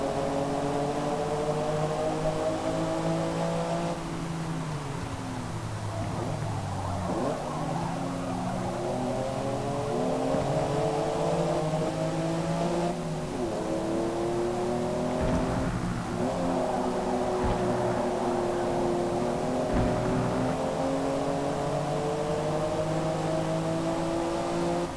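Several race cars in Forza Motorsport, among them a BMW, rev hard and accelerate away from the start, layered engine tones climbing and shifting through gears, loud and continuous for the whole stretch.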